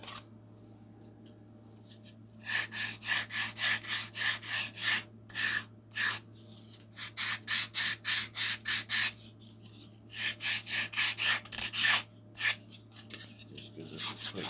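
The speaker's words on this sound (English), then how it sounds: "sanding to clean off all those excess flashing" Wood being sanded by hand to clean off excess flashing on a model airplane wing build, rhythmic rasping strokes in quick bursts with short pauses over a low steady hum.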